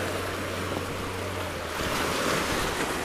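A steady roar of surf and wind at the shore near a lighthouse fills the whole clip, growing slightly louder toward the end, with no voices.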